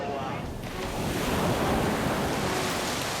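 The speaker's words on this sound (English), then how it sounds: "waves can also double up when they bounce off a surface, like a harbour wall" Sea waves crash and surge against a harbour wall, a dense, roaring wash of surf with wind noise on the microphone, loud and continuous.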